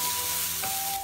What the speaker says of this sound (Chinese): 倒入姜蒜辣椒末炒香